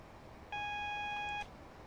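Speed warning beeps in Train Simulator 2022 on the Great Eastern Main Line from London to Ipswich: one steady, bright electronic tone of about a second sounds over quiet background hum, with no talking.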